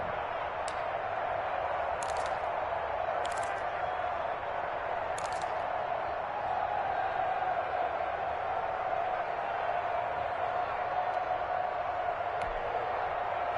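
Stadium crowd in an American football video game, a steady broad roar of cheering fans filling the whole stretch at moderate loudness, with a few brief sharp accents on top.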